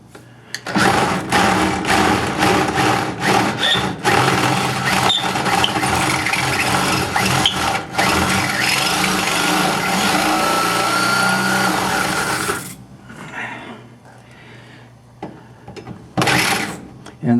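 A power drill bores out a steel frame rivet on a 1954 Chevrolet, running loud and close with a steady grinding whine for about twelve seconds before it stops, followed by quieter workshop sounds and a brief final burst.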